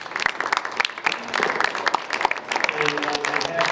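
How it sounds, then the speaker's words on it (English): An audience at a high school alumni event panel claps steadily for a few seconds, with a murmur of voices mixed into the applause. "give them a round of applause"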